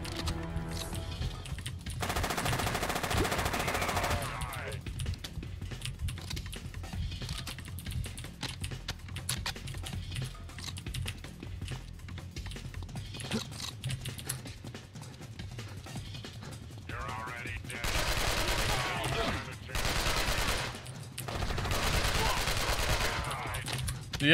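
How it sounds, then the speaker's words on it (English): AK rifle gunfire in the PC shooter Alcatraz, heard as bursts of rapid shots at the start and again near the end, with quieter combat noise in between. "The AK is actually very good against those troopers."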